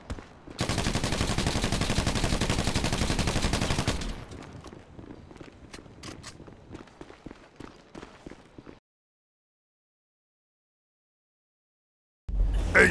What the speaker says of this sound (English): Hey, nice shot, McGoogler.